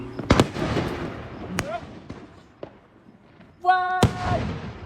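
Fourth of July fireworks viewed from a balcony burst in loud booms at the start and near the end, with scattered crackles between and a brief high whistling tone just before the final bang.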